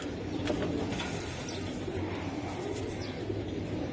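Pigeons, including a male Gulli pigeon, coo softly and repeatedly amid a constant low rumbling background, the calls fairly faint and blended into the steady noise.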